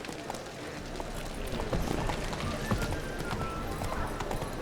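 A horse gallops in The Witcher 3: Wild Hunt, a quick steady patter of hoofbeats running on under the game's ambient sound, moderately close and fairly quiet.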